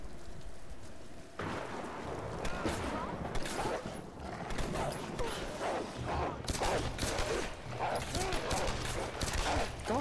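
Gunfire from the player's weapon in Tomb Raider, bursts of rapid shots cracking through a noisy scene, with a voice speaking over parts of it.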